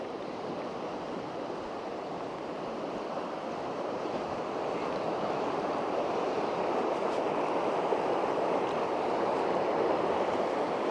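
A river in Wales rushes in a broad, continuous roar, with wind buffeting the microphone throughout and growing slightly louder; no voices.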